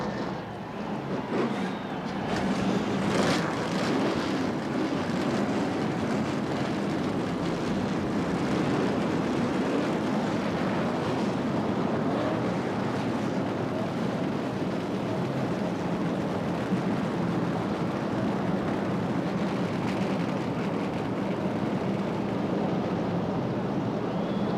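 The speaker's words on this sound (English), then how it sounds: "start your engines." NASCAR stock car engines fire up together at Daytona International Speedway for the 1987 Daytona 500, a broad, continuous roar that swells slightly near the start and then holds steady and loud with no speech.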